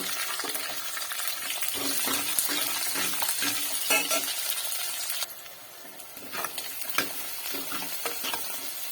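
Onions sauté in a pan of oil with curry leaves and vadagam, a steady close sizzle broken by stirring scrapes and light clinks of a utensil, continuous throughout.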